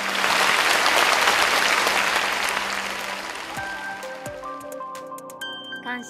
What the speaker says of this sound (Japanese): 会場の皆様、今一度大きな拍手をお願いいたします